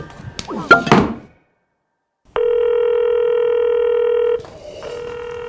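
Telephone tones in a TV comedy scene: after a brief handling knock, a steady dial-style tone sounds for about two seconds, then shifts to a slightly different repeating tone, clear and close.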